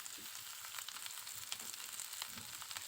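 Chopped onion, garlic cloves and green chillies frying in hot mustard oil in a pan, giving a steady, faint, continuous sizzle with soft crackles throughout.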